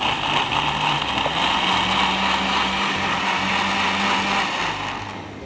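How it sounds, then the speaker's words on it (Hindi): A West Point electric blender whirs steadily as it blends a drink, a loud, continuous motor drone that holds even throughout and eases off slightly at the end, with no talking. "I'll just give it a very nice blend अपने वेस्ट पॉइंट के ब्लेंडर में।"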